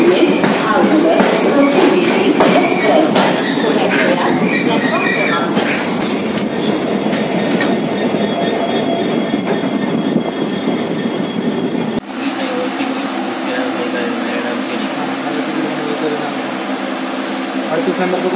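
A Mangalore superfast express overtakes on a packed Ganpati special train in Konkan, its rolling wagons clattering loud and close for several seconds before a sharp cut to steadier, lower rumble and hum inside the coach.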